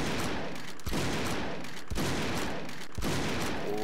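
Gunfire in the video game Brick Force, a pistol cracking out a few loud shots about a second apart over a dense, noisy game backdrop.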